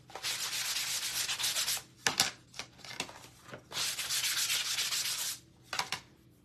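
Sandpaper scrapes back and forth in long, steady strokes with short pauses, a dry gritty rasp close by.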